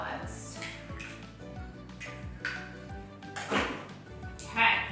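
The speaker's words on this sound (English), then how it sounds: "Okay, so we'll mix that up." Carrot cake batter for a healthy cake gets mixed in a bowl, with soft utensil clinks and scrapes against the bowl in an uneven rhythm and a few louder knocks, fairly quiet and close.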